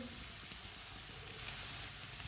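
Boiled chicken pieces, seasoned with salt and black pepper and broken small, hit a hot pan for Chinese kebabs and set off a steady, close sizzle that holds evenly throughout with no talk over it.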